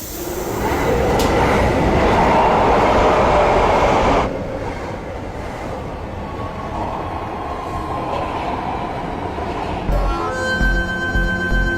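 A metro train rumbles steadily and loudly from inside the carriage, with broadband roar and rolling wheel noise that eases slightly partway through, then a tonal chime or announcement-like beeps near the end; no talk.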